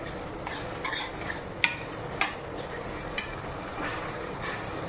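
Grated bottle gourd roasting in ghee as it is stirred in a pan, a soft steady scraping and sizzle with a few light clinks of the spoon against metal, quiet and close.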